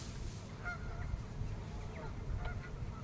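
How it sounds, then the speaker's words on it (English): Geese honk by a fishing spot with a few faint, scattered calls at a distance, heard over a steady low rumble of wind or water. "I will just have a lot of company of all the geese here."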